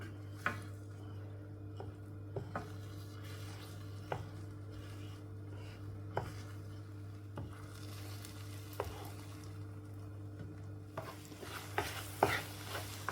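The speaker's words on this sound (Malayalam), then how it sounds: "മേലുള്ള എഗ്ഗ് താഴേക്ക് ആകത്തക്ക രീതിയിൽ ഇങ്ങനെ മിക്സ് ചെയ്ത് കൊടുക്കുക" Butter garlic eggs being stirred and scrambled in a frying pan: a quiet, steady sizzle with a spatula scraping and tapping at intervals, growing busier near the end, with no talking.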